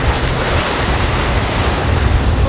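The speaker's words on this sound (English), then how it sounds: "look at this mountain of water" Big ocean waves and strong wind aboard a small sailboat heading out to sea, a loud, continuous roar of surf and buffeting wind noise with no pauses.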